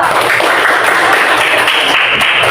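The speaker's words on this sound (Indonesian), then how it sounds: "tepuk tangan untuk kelompok 2" Audience in a classroom presentation session applauding a student group, a close, steady patter of many hands clapping briefly and evenly.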